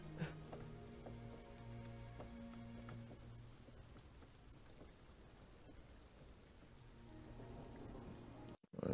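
A recorded rain sound effect plays as a soft, steady patter and hiss of falling drops, faint and continuous, with a low tonal hum and a few clicks mixed in before an abrupt cutoff.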